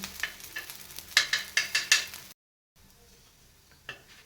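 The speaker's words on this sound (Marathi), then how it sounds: "हे सुद्धा थालीपीठ मीडियम गॅसवर एका बाजूने 2-3 मिनिट भाजून घ्यायचं आहे" Thalipeeth, a Marathi flatbread made with grated raw potato and semolina, roasting on a pan over medium gas gives off a soft crackling sizzle with several sharp scraping taps near the start, then a brief gap and a quieter hiss.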